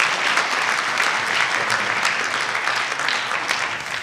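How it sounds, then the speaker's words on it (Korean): An audience at a corporate entrepreneurship concert event in Korea gives dense, sustained applause, an even roar of many hands clapping that holds steady for several seconds without talk over it. "다시 한번 박수 부탁드립니다."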